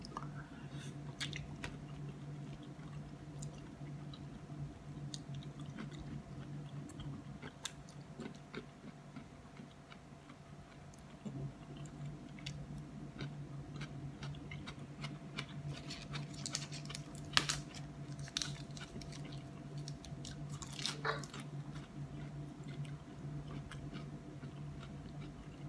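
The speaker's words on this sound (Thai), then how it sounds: "กรุบกรุบเม็ดมันนะครับ" Chewing fresh shrimp pounded with strawberries and fermented fish sauce, crunchy seeds crackling in soft, close-up bites that patter irregularly, with faint background noise and occasional clicks.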